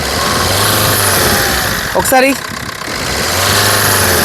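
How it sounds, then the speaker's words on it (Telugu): A 2014 Maruti Suzuki Swift VDI diesel engine revs close and loud with a steady rumbling drone, and a voice briefly says a word partway through. "ఒకసారి యాక్సలేటర్ ఇచ్చి చూపిస్తాను"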